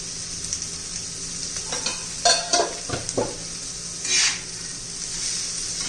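Green chillies cooking with a little turmeric in a pan over a low flame give a steady soft sizzle. A few louder stirring scrapes break through near the middle, with no talking.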